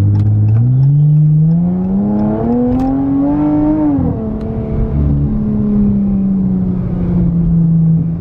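A BMW M3 engine revs up loudly and close, its pitch climbing over a few seconds, dropping, then settling into a high sustained drone at a car meet.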